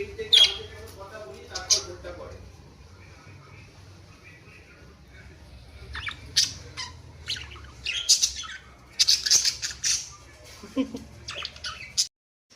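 Birds squawk and screech close by in repeated bursts, growing busier toward the end, while a voice speaks softly at times.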